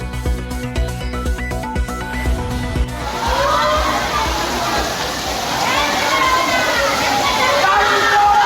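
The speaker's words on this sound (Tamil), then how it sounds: "திருப்பூரில் கனமழையால் ஓடை உடைந்து சாலைகளில் பெருக்கெடுத்து ஓடிய தண்ணீர்" Floodwater from a stream that burst its banks in heavy rain in Tiruppur, running through city streets: a dense, continuous roar of rushing water follows a few seconds of music and voices at the start.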